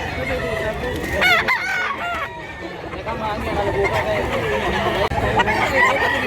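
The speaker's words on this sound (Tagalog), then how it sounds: "Daming manok mga idol." Several roosters crow repeatedly at a chicken market in Mantalungon, Cebu, their calls overlapping amid clucking and a busy crowd backdrop, with nearby voices talking throughout.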